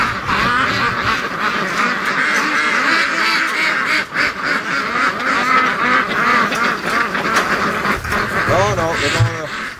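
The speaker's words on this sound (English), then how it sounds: "Oh, the ducks, they look like they're going to the lake" Muscovy ducks quack repeatedly in a windy outdoor spot, a busy run of nasal calls heard close and loud while a person talks over them throughout.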